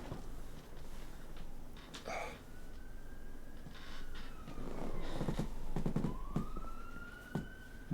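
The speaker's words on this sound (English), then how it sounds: "More sirens. Something's happening out there." Sirens wailing outside, distant and faint, with rising and falling tones drifting over a low background hum and a few scattered knocks.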